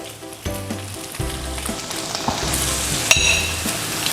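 Pad See Ew noodles dropped into a hot wok with pork, crackling and sizzling loudly while a utensil scrapes and clatters in uneven strokes.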